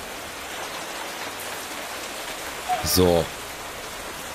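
Steady rain falling in the game Minecraft, an even hiss that fills the whole clip, with a brief spoken word and a short tonal sound near the end.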